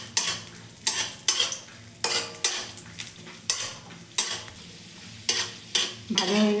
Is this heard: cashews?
yes